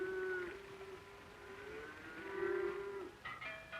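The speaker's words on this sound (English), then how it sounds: "When the weather grows warm, the cows are driven to pasture in the mountains." Cattle being driven to mountain pastures in Switzerland, with a long, low moo that wavers and swells for several seconds, then a few brief higher calls near the end, heard at moderate distance.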